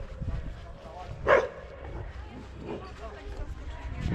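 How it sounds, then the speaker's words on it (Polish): A single sharp dog bark rings out near the middle, fairly close, over continuous background chatter and outdoor noise while people talk. "albo szczekasz od początku, albo nie szczekasz w ogóle."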